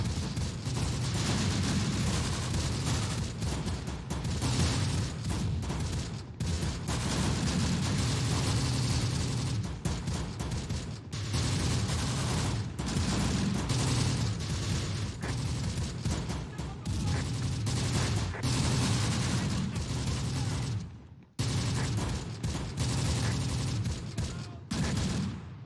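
Continuous battlefield din from Close Combat: The Bloody First in the Tine Valley, dense overlapping rifle and machine-gun fire with heavy booms, loud and unbroken apart from one brief dip near the end.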